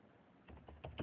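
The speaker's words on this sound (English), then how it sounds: "you can do Control F on your keyboard and type in" Several quick key taps on a computer keyboard, a cluster of soft clicks growing slightly louder toward the end, close and alone with no talk.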